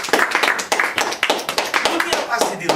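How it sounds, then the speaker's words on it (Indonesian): A church congregation claps for Jesus during a worship service, dense rapid hand claps filling the space under a loud voice. "Berikan tepuk tangan buat Tuhan Yesus."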